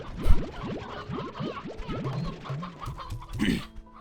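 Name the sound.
hens clucking in a video game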